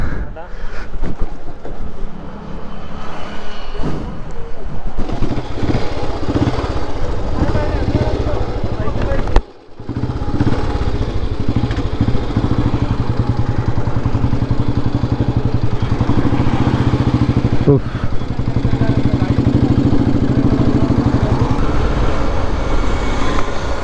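A Bullet motorcycle with a stock, unaltered silencer, just started and idling with a low, steady thumping rumble, briefly interrupted midway, with wind buffeting the microphone and people talking over it.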